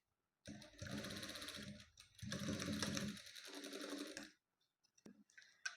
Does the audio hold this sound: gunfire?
no